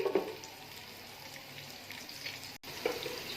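A medium onion frying in a pan for chicken vegetable fried rice gives a faint, steady hiss, with a couple of soft clinks and a brief dropout near the end.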